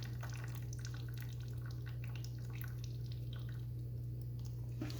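Coolant drips from a drained Kawasaki KX250F dirt bike engine into a catch pan, soft scattered plinks over a steady low hum in a quiet workshop.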